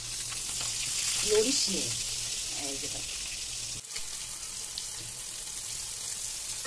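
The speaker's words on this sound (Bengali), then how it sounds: "আমি এটা বের করে সুন্দর করে হলুদ সব কিছু মাখিয়ে আমি তেলের পর ছেড়ে দিয়েছি" Rohu fish pieces coated in turmeric fry in hot oil, making a steady close sizzle with a few brief stirring sounds, and no one talking over it.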